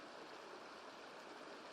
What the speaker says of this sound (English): I don't know what creek this is or where it comes from.